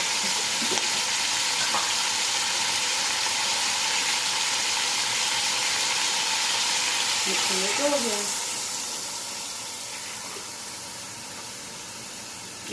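Water goes into a pan of frying chicken for yakhni pulao, setting off a loud, continuous sizzling hiss that later eases off, while someone speaks briefly.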